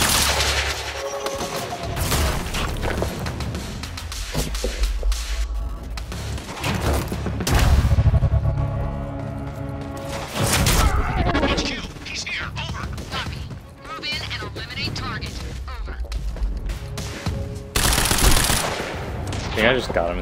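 Rapid SMG bursts and gunfire in a first-person shooter match, loud and repeated in clusters across the clip, mixed with game music, impacts and a voice speaking now and then.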